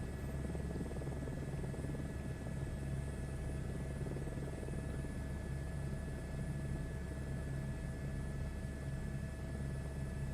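A helicopter drones steadily overhead or nearby, a continuous engine and rotor hum with a constant low throb and a high whine, no voices.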